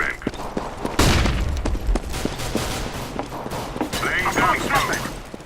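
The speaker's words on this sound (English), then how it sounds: "Grenade out. Deploying flashbang." Gunfire and a sharp explosive burst in a CS:GO match, with grenade and flashbang blasts amid rapid shots, footsteps and scattered thuds, while voices call out over the action.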